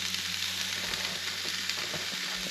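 Meat searing in a hot pan outdoors beside a lake, a steady close sizzle and crackle of frying that continues without a pause, with no talking.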